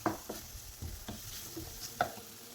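Banana pieces are softened in ghee in a pan and stirred, giving a quiet, close-up sizzle with soft scraping stirs at irregular intervals.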